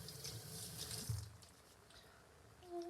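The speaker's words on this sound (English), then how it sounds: "so I'm just gonna wash this off real quick." A bathroom sink tap runs steadily while makeup is washed off, giving a soft, close splash of water that fades somewhat toward the end, with no talking.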